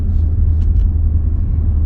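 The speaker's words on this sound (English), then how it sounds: "just to get a little bit more bass out of the exhaust." A 2014-2021 Maserati Ghibli with its Ferrari-sourced engine in sport mode slowing down, its exhaust giving a loud, deep, steady rumble heavy in bass throughout.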